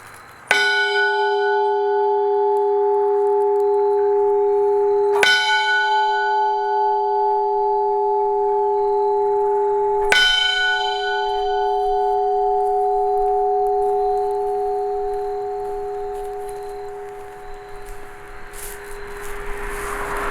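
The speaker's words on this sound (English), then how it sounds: "I shall toll the bell." A dedication bell in Delaware tolled three times at even intervals of about five seconds, each strike ringing loud and clear with a long sustained hum that fades beneath steady outdoor ambience.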